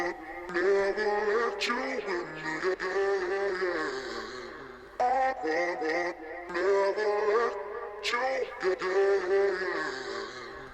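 A pitched-down lo-fi vocal chop on a lo-fi hip hop beat is treated with delay and plate reverb, giving repeating warm, hazy phrases with soft echoing tails and brief gaps between cuts, at moderate level.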